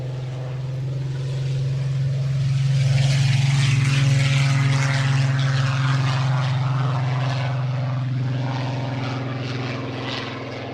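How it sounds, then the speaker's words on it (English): A Mark 19 Spitfire propeller aircraft at an airshow passes with a loud, steady engine drone. The sound builds to a peak in the middle and then eases slightly as it moves away. "Here goes the Mark 19 Spitfire."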